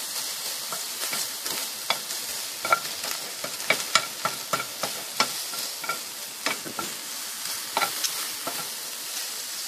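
Sirloin steak frying slowly in a pan, a continuous close sizzle with repeated sharper pops and crackles scattered throughout.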